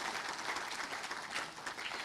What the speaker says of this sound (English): A big round of applause to welcome our esteemed guests